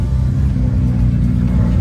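A 1979 rotary-engine car idles close by, its steady loud rumble thrumming without a break and with no voices over it.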